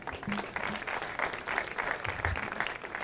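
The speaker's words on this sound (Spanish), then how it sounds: "Por favor, un gran aplauso." Applause at a Startup Grind Santiago event for a venture capital speaker, with a medium crowd clapping steadily and evenly throughout, at moderate level.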